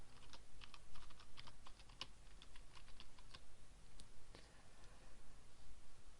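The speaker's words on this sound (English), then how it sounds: "So type in our subdomain," A subdomain name is typed on a computer keyboard: a quick run of light clicking keystrokes, close and fairly soft, with no speech over them.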